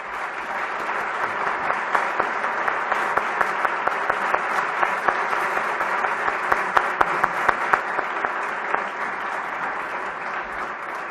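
Steady applause from a conference audience after a presentation on the Christian family: dense, continuous clapping filling the hall at an even level, with a few louder individual claps standing out near the microphone.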